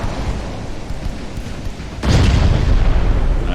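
Naval guns fire a shell in the naval warfare game Ultimate Admiral: Dreadnoughts, with heavy cruisers carrying 11-inch guns. A steady low rumble is cut by one sudden loud boom that sustains its roar to the end.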